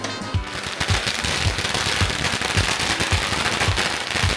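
A long string of firecrackers goes off outside a hobby shop, a rapid, loud crackle of sharp pops bursting in quick rhythm without pause for several seconds.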